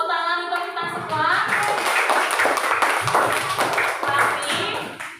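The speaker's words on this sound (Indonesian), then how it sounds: "Tepuk tangan untuk kita semua." A classroom of students clapping hands together for themselves during a lesson, a dense patter of many small claps starting after a moment and continuing steadily, with a teacher's voice speaking over it.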